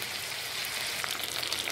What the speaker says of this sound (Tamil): ஒரு 3 ஸ்பூன் வெண்ணெய் வந்து போட்டு உருக்கிட்டு இருக்கிறேன்